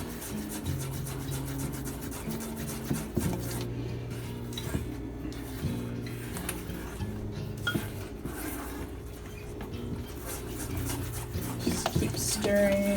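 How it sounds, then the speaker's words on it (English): A spoon stirring banana muffin batter of oil, sugar and mashed bananas in a bowl, a steady scraping and clinking that keeps going throughout, alongside faint background tones and a little talk. "Just keep stirring."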